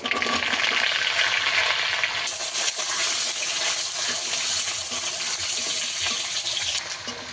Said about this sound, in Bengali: এবার আলুটাকে ভালো করে একটু লাল লাল করে ভেজে নেব কিছুক্ষণ।